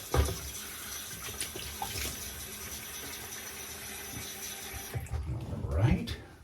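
Vintage Gillette Senator open-comb safety razor rinsed under a running tap, a steady hiss of water with a few knocks and splashes against the sink, plus a brief voice near the end.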